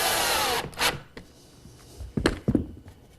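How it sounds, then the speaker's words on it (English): Bronze screws driven to join wooden chaise lounge chair pieces, a continuous power driver whir at first, then a few short bursts and thunks, close and fairly loud. "we'll secure these pieces together with some bronze screws"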